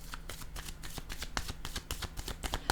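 Playing cards being shuffled by hand in a rapid, steady series of crisp riffling flicks, close up and alone with no talking.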